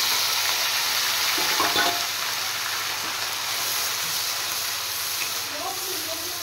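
A ginger, garlic and onion spice paste fries in a pan with chopped onion, giving a steady, close hiss and sizzle that holds throughout.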